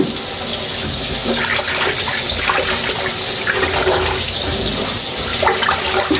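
Running tap water splashing steadily while home-grown leafy greens are rinsed in a sink, a constant close wash of water with small clinks and handling sounds, no talk.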